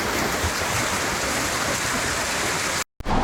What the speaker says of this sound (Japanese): 階段みたいに流れる水の滝を登ります